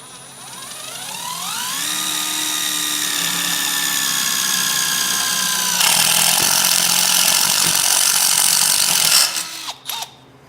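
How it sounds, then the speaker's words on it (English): Power drill boring a third bolt hole for a Hybrid Racing short shifter install, whining up steadily and holding a high pitch for several seconds, then cutting harsher as it bites before stopping with a few clicks. "we'll drill it out"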